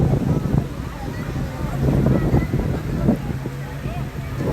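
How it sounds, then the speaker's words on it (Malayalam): Steady wind rushes and buffets across the microphone at a crowded beach in Kozhikode, a continuous blustery roar with low rumbling gusts throughout. "നല്ല കാറ്റുണ്ട്"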